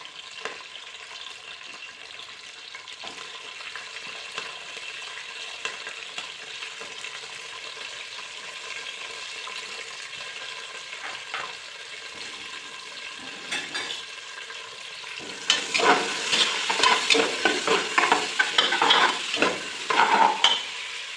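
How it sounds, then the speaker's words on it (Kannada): Chopped onion and green chillies fry in oil with cumin and chana dal for brinjal khichdi, a soft sizzle with scattered stirring scrapes that grows much louder and busier near the end, with no voices. "ಅದಾಕಿದ ನಂತರ ಹಚ್ಚಿಟ್ಕೊಂಡಿರೋಂತಹ ಈರುಳ್ಳಿ ಮೆಣಸಿನ್ಕಾಯಿನ ಹಾಕ್ತಾಯಿದ್ದೀನಿ"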